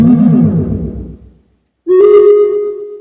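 A Theremini theremin sounds its Sparkle Horse preset: a bright, swept tone with shimmering overtones that fades to silence, followed by a loud, steady sustained note with a glittering edge, alone and with no voices.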